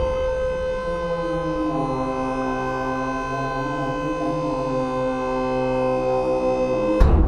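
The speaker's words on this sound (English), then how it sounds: "Sounds like I need to get a little grease into those fittings." Hydraulic hoist on a 2019 PJ 14-foot low-profile dump trailer squeals as the bed rises, its fittings dry and needing grease; a steady, high, harmonic whine bends slowly in pitch, then ends with a sharp click.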